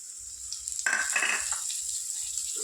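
Onion and capsicum fry in a pan for a gravy, a bright crackling sizzle that swells as the capsicum goes in, with soft stirring scrapes and low thumps beneath.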